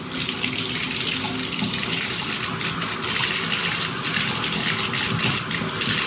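A bathtub tap runs full blast, filling the tub with hot water in a steady, loud, close gushing rush that holds evenly throughout with no voices.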